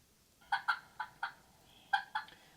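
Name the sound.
hunter's call imitating a turkey to provoke a gobble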